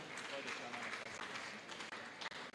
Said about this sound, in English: A round of applause for him as he steps forward.